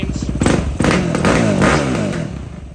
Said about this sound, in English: you can rev it up. Much better, but yeah, you can hear it popping,